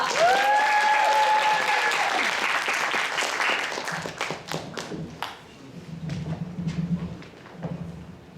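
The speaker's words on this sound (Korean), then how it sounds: "큰 박수로 정수정 교수님을 모시겠습니다." Audience applause at a university health administration department's licensing ceremony, loud dense clapping at first that thins into scattered individual claps, with a low hum and murmur underneath toward the end.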